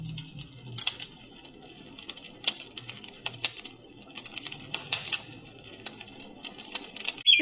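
Campfire crackling played by a SoundMe noise machine: irregular sharp pops and snaps scattered over a soft, steady hiss, at a moderate, even level with no voices.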